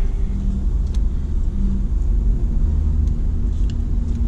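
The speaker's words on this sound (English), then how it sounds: "Let these cars go by." Cars roll past near an RV park and casino hotel entrance, giving a steady low road rumble with mild engine hum and no clear individual pass-bys, no voices.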